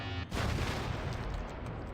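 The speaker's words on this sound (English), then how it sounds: "I can shoot laser beams out of my eyes" A sudden burst of blasting energy fire in GTA V, erupting after a brief lull into a loud, continuous roaring rush that holds steady for nearly two seconds, with no talk over it.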